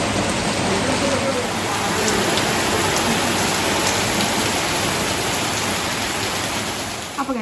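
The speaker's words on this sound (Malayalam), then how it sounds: "നല്ല മഴയാണ് ഗൈസ്." Heavy rain pours down in a steady, dense hiss that stays close and loud throughout, with no break in the downpour.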